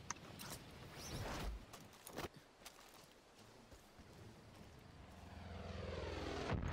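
Propeller plane engine from the Far Cry 5 video game, a rough droning roar that fades mid-clip and then swells steadily louder toward the end, with scattered sharp game noises over it.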